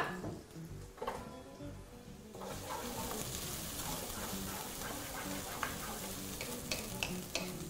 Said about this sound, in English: And then I'm just going to go in with some white onions, which we're just going to sweat out for about 2 to 3 minutes.